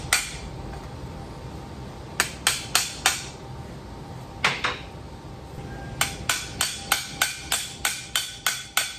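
Hammer tapping a part into a Ford F1/F100 steering column, sharp metallic knocks close up, a few scattered hits and then a steady run of evenly spaced taps.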